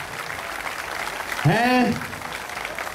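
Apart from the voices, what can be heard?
concert audience applause at arena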